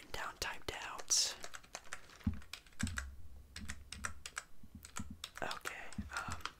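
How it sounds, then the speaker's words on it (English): Rapid, uneven tapping on a laptop keyboard, close and crisp, with short bursts of keystrokes and pauses, accompanied by soft whispered speech throughout. "Pull out my laptop."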